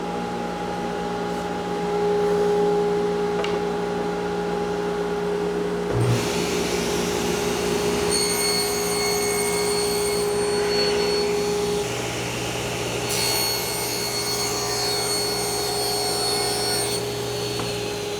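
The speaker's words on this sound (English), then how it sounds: "now I'm trimming up the Spanish cedar to line the inside of the box" A power tool trims Spanish cedar for a box lining, a continuous loud motor drone with a steady hum that shifts in pitch and texture partway through, with no talk.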